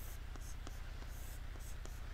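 Pen strokes as a three-point Gauss-Legendre integration formula is written out by hand, a steady scratchy scribbling with short rhythmic strokes, faint and close, with no talking.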